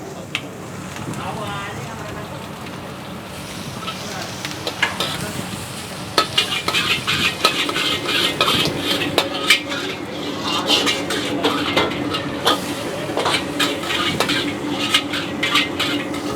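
Squid and shrimp are stir-fried in a pan, with continuous sizzling and busy scraping and clinking of a utensil against metal, while people talk over the cooking.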